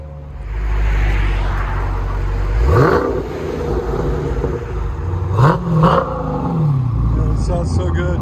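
A Dodge Challenger Scat Pack V8 barks through a Jones 3-inch exhaust under a loud, steady rumble, with two quick throttle blips rising and falling close by.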